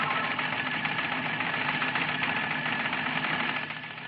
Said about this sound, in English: your converter goes into action and your teleprinter prints out the message like this.